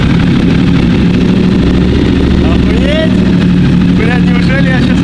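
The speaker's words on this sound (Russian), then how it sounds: "я поставил выхлоп, прямоток, это терминьоне, запатентованный выхлоп" A car engine with a Termignoni straight-through exhaust rumbles loudly and continuously at close range while people talk over it.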